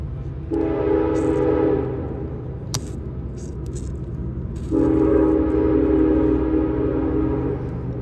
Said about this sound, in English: So that's the lovely train that goes by.